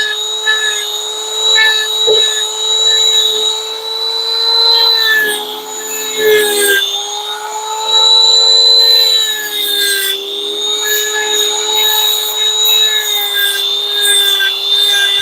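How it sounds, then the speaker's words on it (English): Wooden knife handle scales being ground down on a grinder, a steady high whining abrasive drone with shifting pitch that runs continuously and loud throughout, briefly dipping as pressure changes. "what I'm gonna do is just grind the scales down, get them nice and even"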